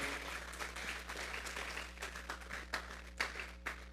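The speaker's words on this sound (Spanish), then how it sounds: "Vamos a darle una ofrenda de palmas a Dios en esta hora" A congregation claps together as an offering to God during a church service, a dense, sustained wash of many hands with a few sharper claps standing out near the end, moderately distant.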